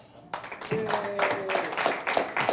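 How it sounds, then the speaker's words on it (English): A small audience breaks into applause and claps steadily for a couple of seconds, with a faint whistle near the start. "A round of applause for the Trump people."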